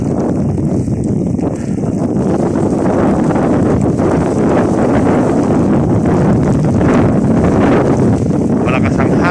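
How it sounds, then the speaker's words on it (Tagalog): Strong wind from snowstorm Filomena buffets the microphone on Gran Via in Madrid, a loud, continuous roaring rumble, while a voice speaks faintly underneath. "Malakas ang hangin."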